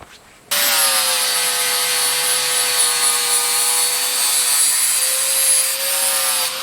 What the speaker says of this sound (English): I will do that with a flap disc.